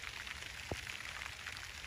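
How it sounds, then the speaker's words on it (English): Rain falling in a garden makes a steady, even hiss of drops on the surroundings, with one brief louder tap partway through and no voices. "And it has started to rain a little harder."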